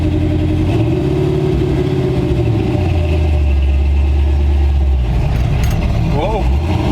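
A 1965 Chevy C-10 truck engine drones and revs while driving, rising and falling with gear changes, close and loud in the cab, with people talking over it.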